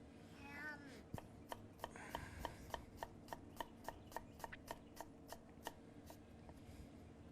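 Knife slicing orange peel into thin juliennes on a cutting board, a steady run of about twenty crisp, evenly spaced taps, close and clear, with faint talk early on.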